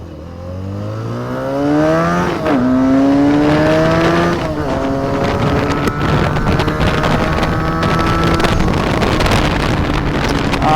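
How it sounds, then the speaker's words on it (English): A 2017 SSR 300 fuel-injected motorcycle engine revs up through the gears, pitch climbing and dropping with shifts, loud and close with steady wind rush over the ride. "it's a good sounding motor, good looking bike."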